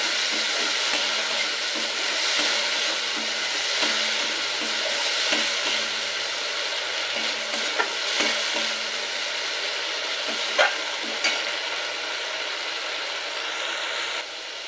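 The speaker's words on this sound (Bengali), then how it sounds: "পেঁয়াজের পেস্টটাও টমেটোর সাথে ভালো করে কষিয়ে নেব" Onion paste and tomato stir-frying in a pan for a mustard-sauce fish curry, a loud continuous sizzle with occasional scrapes and stirring knocks, steady and close with no talking.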